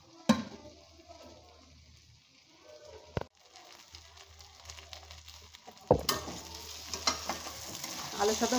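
Potatoes fry with spices in a kadai for a fish-head curry, giving a quiet sizzle broken by several louder scrapes and clatters as the pieces are stirred; no one speaks.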